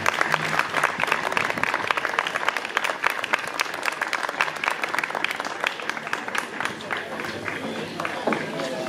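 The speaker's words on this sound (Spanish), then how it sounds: "Muy bien, un aplauso." A crowd in the village square of Valdecabras applauds during the town festival, a dense, continuous roar of clapping that holds steady, with voices mixed in.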